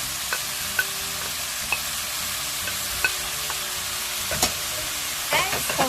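Onions, cabbage and carrots stir-frying with pork for a spicy red pepper paste dish make a steady close sizzle, broken by clicks and scrapes of stirring and a few louder clatters near the end.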